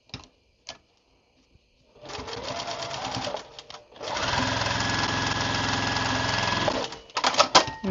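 A sewing machine stitches quilt pinwheel block pieces together, a short burst of running followed by a longer, steady, loud mechanical whir with a rhythmic needle beat, close by and free of talk.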